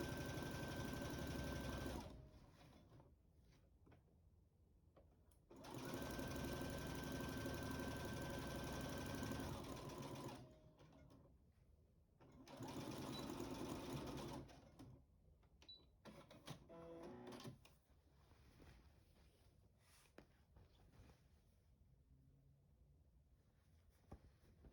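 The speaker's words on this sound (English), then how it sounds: "I'm just sewing up the sides" A sewing machine stitches up the side seams of a top made from a McCall easy top pattern, running in three loud steady bursts separated by pauses with faint handling noises between.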